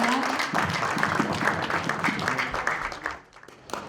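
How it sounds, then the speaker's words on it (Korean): An audience at a forum applauds to welcome a pianist, dense clapping that thins and drops away near the end before a brief rise. "여러분, 우리 시대의 자랑스러운 피아니스트 김준희 군을 박수로 맞이해 주십시오."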